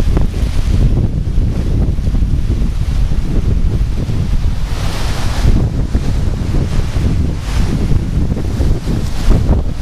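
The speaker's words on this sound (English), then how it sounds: "We're getting some real strong winds here. These are about 50-mile-an-hour wind gusts." Strong wind gusts of about 50 miles an hour roar steadily outdoors near the ocean, with loud buffeting surges and rumbling across the full length, and no voices.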